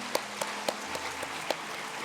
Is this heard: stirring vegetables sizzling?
no